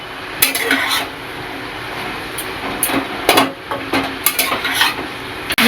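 A lid goes back onto a pan of pumpkin greens cooking with poppy seed paste, giving several sharp metallic clanks and clatters over a soft background sizzle, close and fairly loud, with no speech.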